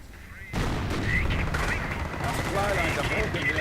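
Gunfire and explosive tank hits in a WWII strategy game, including a direct hit on a Panzer IV's rear armor, burst in suddenly and keep up as a dense, loud, continuous clatter of shots and impacts for several seconds.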